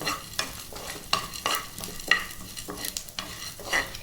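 Urad dal and dried red chillies roast in a pan, with repeated rhythmic scraping strokes of a spatula over a soft sizzle, close and alone without any talk.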